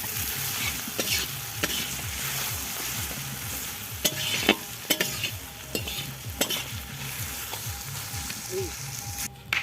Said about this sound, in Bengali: তাকে একটু ভালোভাবে ভাজে নেব